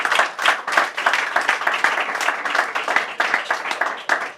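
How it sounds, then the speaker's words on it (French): Church congregation applauding loudly together, a dense steady wash of clapping with sharp individual claps standing out, sustained throughout with no talk. "Acclamons très fort pour Jésus."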